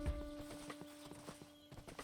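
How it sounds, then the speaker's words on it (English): A Minecraft horse clip-clops in a quick run of hoof taps and gives a short whinny at the start, quiet and close with no talking. "It's a basic horse."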